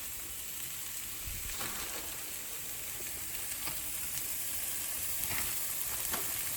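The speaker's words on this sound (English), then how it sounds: "so now I'm going to be adding my carrots" Carrots added to sautéed onions in a pot for Russian borscht set off a steady, close sizzle and crackle of frying, with a few scattered pops and stirring scrapes and no talking.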